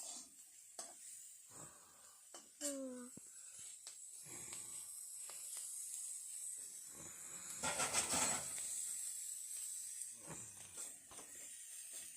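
Food fries in a pan for a home-cooked lunch of mung dal and cabbage. A soft, steady hiss and sizzle carries throughout, broken by clinks and scrapes of stirring and a brief louder crackle near the end.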